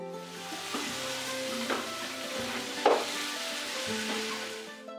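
Turmeric, garam masala and black pepper powders are stirred into onion and tomato in a hot pot for kadai chicken, giving a steady close sizzle with soft scraping stirs and a few sharper clinks, with no talking.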